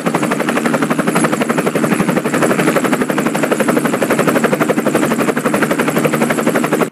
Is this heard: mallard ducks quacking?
no